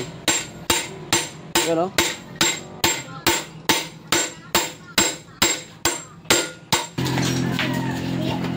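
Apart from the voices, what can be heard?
hammering in a bushing on a motorcycle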